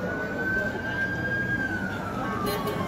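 A single wailing emergency siren, ambulance or police, holds a long, steady tone that dips slightly toward the end, set against constant street and crowd noise in Dubai.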